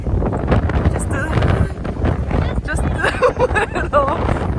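Gusty wind at a winter beach roars across the microphone in uneven bursts, loud and close, while people talk over it.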